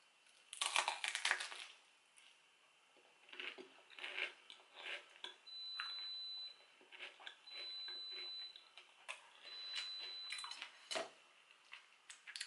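Crunching into a crisp sandwich made with onion-flavoured pop chips and peanut butter, a run of close, loud crackly bites and chews that come in bursts and stop between them, with no talking.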